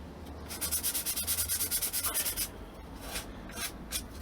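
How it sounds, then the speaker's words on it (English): Sandpaper rubbing back and forth over a balsa wood guitar body, a quick run of about a dozen even rasping strokes followed by a few slower scattered passes, close and loud with no voices. "go to normal corner and sand until you can't see any of the residue around the edge"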